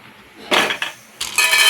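A metal pan is set down on a stove with a couple of clanking knocks, followed by the brighter clatter and splash as oil is poured in, close and distinct.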